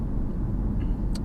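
Inside a diesel tow car on a run, a low, steady rumble of engine and road noise fills the cabin, with a faint brief squeak near the end and no voices.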